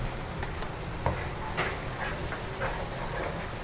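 Steady sizzling hiss of fish curry spices frying in a hot pan, with occasional stirring scrapes and pops, continuous and fairly close.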